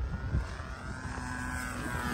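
Model airplane in flight, a thin, buzzing engine whine that holds steady at a moderate distance, fairly faint and alone for a couple of seconds.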